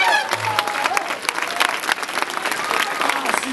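Crowd applause rings out across the grounds at an elite trial bike super final in Clisson, dense steady clapping filling the whole stretch under a commentator's voice.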